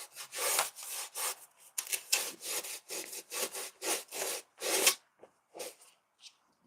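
Hand sanding of a foam pumpkin sculpture with 120 grit sandpaper, a series of close, rhythmic rasping strokes, each a short scratchy burst with brief pauses between, gradually thinning out toward the end.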